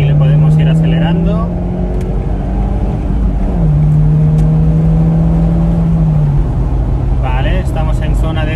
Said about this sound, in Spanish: Aquí le podemos ir acelerando.